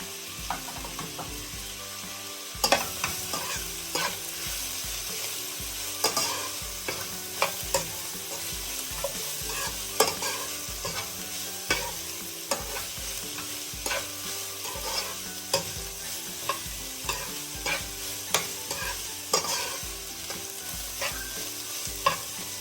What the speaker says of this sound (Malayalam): പച്ചമുളകും ഇട്ട് കൊടുത്തേക്കാം.